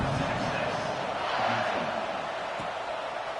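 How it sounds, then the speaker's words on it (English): Stadium crowd at a college football game between Mississippi State and Texas keeps up a steady, dense roar for the whole stretch, with broadcast commentary talk mixed in over it. "this crowd is buzzing after that last score"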